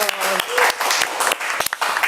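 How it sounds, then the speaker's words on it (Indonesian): An audience applauds a guest, a provincial anti-narcotics agency head and police brigadier general, on an Indonesian talk show, the clapping dense and steady with voices talking and calling over it throughout. "Beri tepuk tangan dong."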